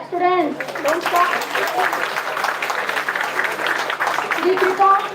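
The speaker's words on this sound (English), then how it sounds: "please clap students, don't stop." Sustained applause from students at an annual college convocation, a thick, continuous crowd clapping that holds steady throughout, with a voice speaking briefly near the start and again at the end.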